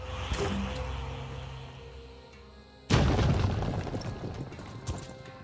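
A grenade blows up in the turn-based tactics game Phoenix Point: a sudden loud, broad blast about halfway through that rumbles and decays over the following seconds, after quieter game sounds with a brief pop near the start.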